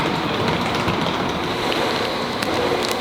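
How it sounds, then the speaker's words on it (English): Waterford train arriving at Limerick Junction station, a steady broadband rumble and rolling hiss of the rail cars close by, continuous for the whole stretch with no voices over it. "And this is it, this is the Waterford train."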